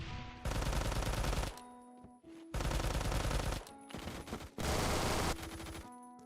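An MP40 submachine gun fires in Phantom Forces in four sustained full-auto bursts, each about a second long with short gaps between them, loud and close with no talking.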